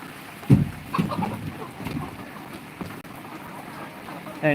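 Chickens in a cooled poultry house, kept cool against heavy outdoor heat, give a few scattered clucks over a steady low background noise.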